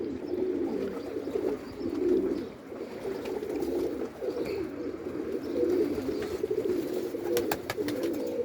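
Pigeons cooing steadily in low, repeated calls, close by and continuous, with a few faint chirps near the end.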